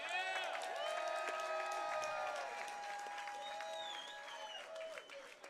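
An audience at a Country Box 27 fight night applauds and cheers at length, the clapping steady and fairly distant beneath a voice speaking and sustained musical tones.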